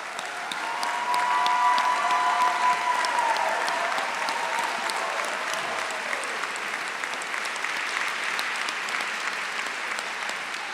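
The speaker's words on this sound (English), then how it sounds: "Let's give our veterans a big round of applause." A large crowd at a school graduation ceremony applauds steadily for several seconds, a full sustained wash of clapping with a faint tone lingering early on.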